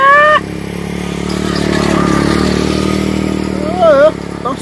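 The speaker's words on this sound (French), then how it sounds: "Attention, moto ça, oui." A motorcycle engine swells as it passes by on a street in Santo Domingo, rising to a broad roar and then fading, with people talking and shouting briefly over it at the start and end.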